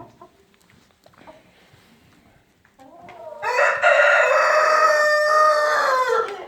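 A rooster crows loudly and close by, a long drawn-out call, after a few quiet clucks from chickens nearby being fed anchovies.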